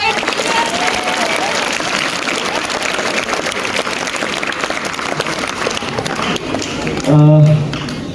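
An audience at a school mono-act performance breaks into sustained, loud applause with dense clapping throughout, and a voice rises over it near the end.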